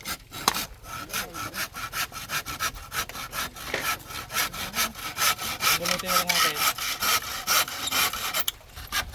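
A hand saw rasps through wood in quick, steady back-and-forth strokes, loud and close, with a brief spoken remark near the start.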